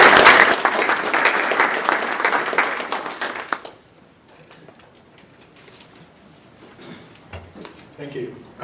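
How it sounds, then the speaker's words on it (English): An audience at a cybersecurity event applauds, a dense burst of clapping that fades out after a few seconds, followed by quiet room noise and faint shuffling. "Another round of applause"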